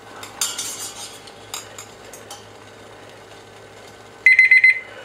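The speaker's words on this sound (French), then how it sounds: "j'avais mis l'alarme, ça sonne" A ChefAlarm kitchen probe thermometer sounds its alarm, a rapid run of loud, shrill beeps near the end, after scattered clinks of metal against a pot or utensils.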